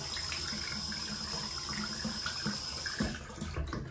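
Tap water runs steadily into a bathtub to flush debris down the drain, a continuous close splashing flow with a few small knocks near the end.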